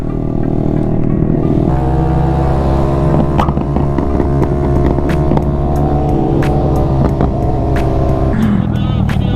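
A stunt-modified Honda Grom motorcycle runs steadily and loudly up close while being ridden, its engine droning and rising and falling with throttle changes across the whole stretch.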